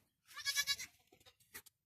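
Goats bleating in a village during a kidding, several harmonic bleats close by in a quick cluster, then a few shorter, softer calls.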